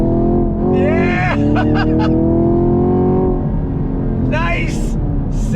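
2022 Chevy Camaro SS engine accelerating under throttle, a loud, close growl that rises in pitch, holds strong, then eases, while a voice calls out excitedly over it.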